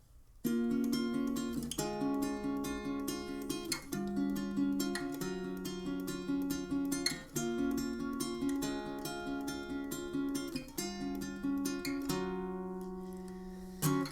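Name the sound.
acoustic guitar hook played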